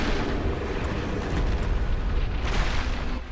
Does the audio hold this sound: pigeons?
no